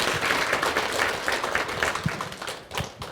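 Audience at a Korean cultural colloquium gives warm, steady applause welcoming a guest doctor to the stage, a continuous wash of many hands clapping close and loud throughout.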